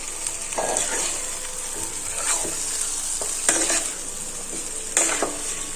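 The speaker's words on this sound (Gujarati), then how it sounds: "હવે બાફેલા બટેટા હતા તે આપણે બધા એડ કરી દઈશું અને મિક્સ કરી દઈશું" Boiled potatoes being stirred into a spicy garlic paste in a hot pan for Kathiyawadi bhungla bateta, with a steady close sizzle and a few sharper scraping strokes of the spoon, no talking.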